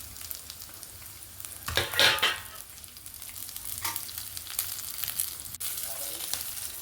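Cashews with chana dal, urad dal, mustard and cumin seeds, onion, chili and ginger frying in hot oil, a steady close sizzle with stirring scrapes and a brief louder burst of crackling partway through.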